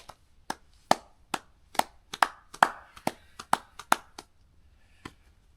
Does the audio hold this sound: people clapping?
yes